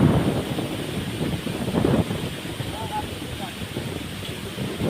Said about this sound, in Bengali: এখানে কিন্তু এই মুহূর্তে বৃষ্টি হচ্ছে এবং প্রচুর পরিমাণে বাতাস হচ্ছে